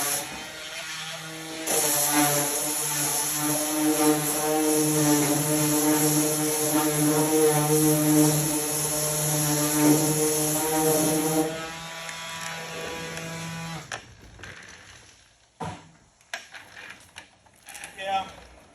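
A power sander with 80-grit paper runs against the metal fender of a Porsche 928, a loud steady whirring buzz for several seconds, then stops, followed by scattered clunks and handling noises.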